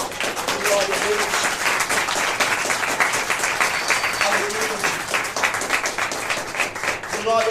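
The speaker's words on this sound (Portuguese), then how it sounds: "Quantos podem aplaudir o Senhor?" A congregation claps steadily through a church service, a dense, sustained round of applause from a crowd, with a voice speaking over it.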